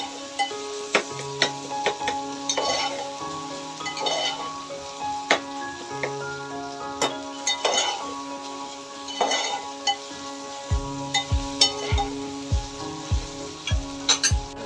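Onion and tomato cook in a pan, the frying sizzle running under faint clinks of utensils and pot, with repeated sharp knocks near the end.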